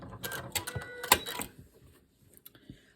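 A sewing machine stitches a nine-patch quilt block in a quick rattling burst of needle strokes, close and clear, then stops, leaving soft scattered clicks and handling noises.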